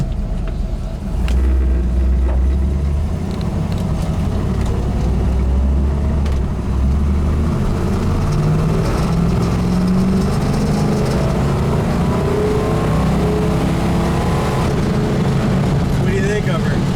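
A 1970 Dodge Challenger R/T with a 440 V8 rumbles along the road, its deep engine burble steady beneath the road noise while people talk over it inside the car.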